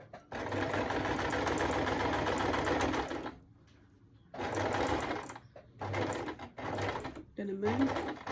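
A sewing machine stitching quilt fabric runs in close, loud whirring bursts, one long run, a pause, then shorter runs, with a person talking during the quiet gap.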